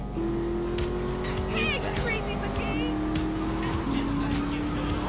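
Car driving in the video game GTA, a steady engine drone with two downshifts in pitch, heard under someone talking in Turkish over continuous background game noise.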